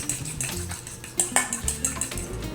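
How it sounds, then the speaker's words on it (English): An egg is whisked in a small bowl for sausage rolls. Quick metallic clinks and taps against the bowl come close and clear in an uneven rhythm. "We're gonna crack an egg into our little bowl over here, and we're gonna whisk it up."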